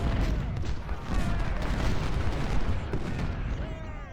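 Civil War artillery and rifle fire during a Union battle at Nansemond River in Ultimate General: Civil War: dense overlapping cannon booms and crackling volleys rolling continuously, loud and rumbling throughout.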